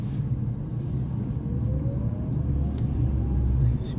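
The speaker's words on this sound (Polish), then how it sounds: "Śmieciarka zepsuła nam trochę." A garbage truck rumbles past outside a small electric car, a steady low engine drone filling the whole stretch at fairly close range, with no speech.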